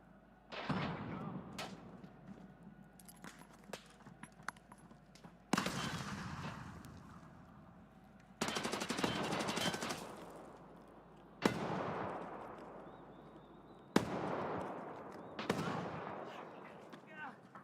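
Sharp bursts of gunfire ring out in an Escape from Tarkov Arena match, about five loud blasts spaced several seconds apart, each trailing off in a long echoing decay, with talk running faintly underneath.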